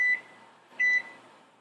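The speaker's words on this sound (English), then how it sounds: "our timer went off for the 10 minutes" An oven timer beeps in a kitchen, two short, clear electronic tones about 0.8 seconds apart over a quiet hum, with no talking.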